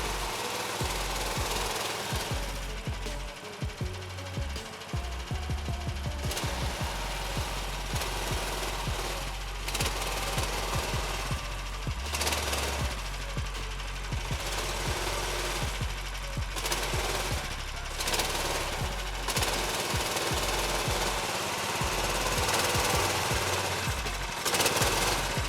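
A Taiga 4x4 ATV engine churns steadily and loudly as the articulated vehicle crawls across a big hole, with a continuous rough, knocking drone and occasional surges throughout, no talking.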